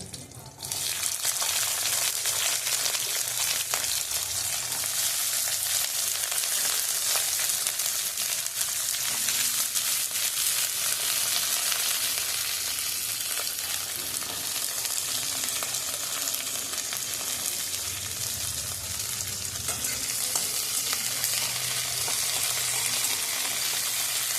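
Chopped vegetables frying in a pan for paneer butter masala, a loud, dense, continuous sizzle that holds steady throughout after a brief quieter start.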